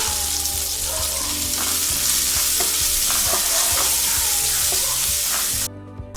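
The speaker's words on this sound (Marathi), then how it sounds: "कढीपत्ता, मिरची चांगली परतून घेऊया." Curry leaves and chillies sizzle and fry in hot oil in a pan for a rice dish, a loud steady crackle with scraping stirring strokes throughout, close up, cutting off abruptly near the end.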